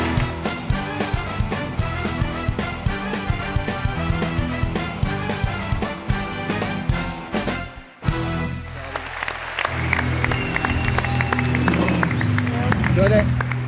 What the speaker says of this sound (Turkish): Alkışlarla buraya davet ediyorum.